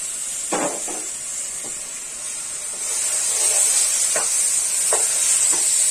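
Rice dry-frying in a pan for ilish pilau, a continuous close sizzle with soft hissing, broken by several short scraping stirs and spatula taps; no one speaks.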